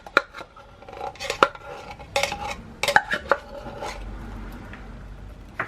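Thick sweet rice is stirred in a cooking pot, a spoon clinking and scraping against the metal in irregular bursts, fairly close, with no talking.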